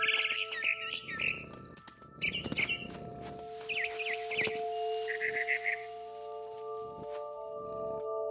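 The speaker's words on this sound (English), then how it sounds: "Then I heard chirping outside my window. It was a barn swallow going back to her nest." A barn swallow chirps in the game What Remains of Edith Finch, bright twittering bursts repeating across several seconds over sustained tonal background music, clear and close.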